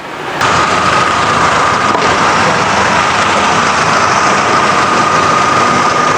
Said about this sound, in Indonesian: Kita coba starter.